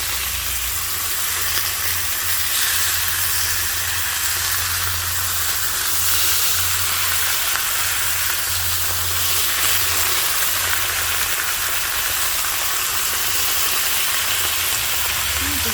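Lamb pieces brown in a hot pan, producing a loud, continuous sizzling hiss with a steady low hum beneath, close and unbroken throughout.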